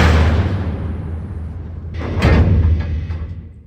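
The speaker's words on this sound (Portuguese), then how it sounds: "fecho a enorme porta da máquina" The huge heavy door of an armored truck is pushed shut, a scraping slide ending in one loud metallic slam and a short rattling tail, close up over a low engine rumble.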